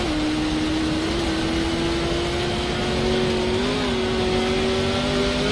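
A race car built for the Nordschleife and Le Mans revs in a driving video game on the streets of Bannochbrae, a loud, steady engine drone with pitch rising and dipping slightly, heard alone without talk.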